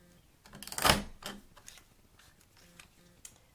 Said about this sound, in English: I'm going to punch both strips because they're going to represent a border.